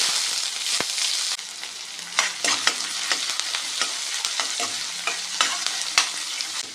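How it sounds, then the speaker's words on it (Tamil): Chopped large onions sizzle in hot oil while a utensil scrapes and stirs the pan in irregular bursts. "இந்த பெரிய வெங்காயம் எண்ணெயிலே வதங்கி கண்ணாடி பதம் வரட்டுங்க"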